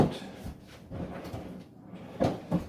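Several wooden drawers being pulled open and pushed shut in a pub's underground bar while searching for scissors, a series of scraping slides and knocks with brief gaps between them.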